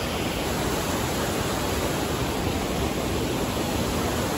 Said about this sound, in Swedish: Det forsar ju på ganska bra också.